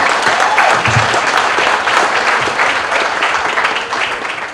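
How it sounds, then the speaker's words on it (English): Audience at the Town of Surfside commission swearing-in ceremony applauding: sustained, fairly loud crowd clapping that holds steady and tapers slightly at the end, with no talk over it. "And I want to give a round of applause."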